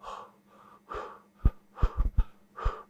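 A voice imitates weak, low, deficiency-type panting with faint, shallow breaths mixed with soft throaty catches and small mouth clicks. The sound is close and quiet, and no words are spoken.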